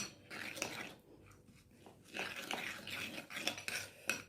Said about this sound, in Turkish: İyice bunları böyle bir karıştıralım.